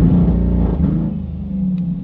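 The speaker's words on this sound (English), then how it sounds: "foot firmly on the brake, and to see what happens when I rev it up" A Corvette C8 sitting in drive with the brake held as its engine revs up, a loud, steady low rumble that swells early and then holds at a sustained high idle.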